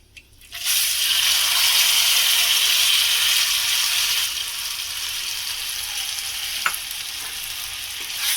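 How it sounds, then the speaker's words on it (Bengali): Gobindobhog rice coated with turmeric hits hot oil with a sudden loud hiss that stays steady, then eases to a softer sizzle as it is stirred, with an occasional utensil tap. "তিন মিনিট এই চালটাকে আমি ভালো করে নাড়াচাড়া করে নেব।"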